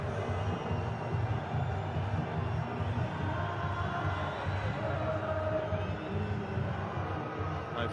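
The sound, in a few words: cricket crowd cheering in the stadium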